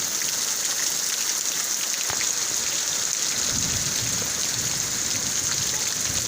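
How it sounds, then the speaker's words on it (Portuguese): Heavy rain pours steadily on a rural farm, a dense continuous hiss with a faint low rumble of distant thunder beneath it. "Chuva engrossou de novo."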